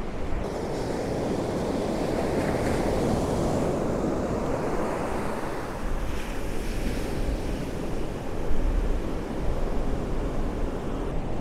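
Ocean waves washing onto a beach with steady wind buffeting the microphone, a continuous loud roar of surf that swells slightly near the end, with no voices.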